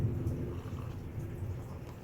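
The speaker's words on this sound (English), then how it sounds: "it's like raining here, like really bad, and it's like dark outside, so hear the thunder?" Thunder rumbles low and steady through heavy rain outside on a dark day, a muffled, rolling sound under a constant wash of rainfall, with no talking.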